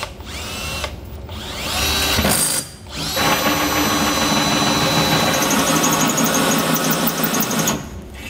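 A power drill with a bit enlarging a pilot hole during a Curt custom underbed gooseneck trailer hitch install on a 2022 GMC truck, whining loudly and continuously at close range with brief pauses and pitch shifts as it cuts.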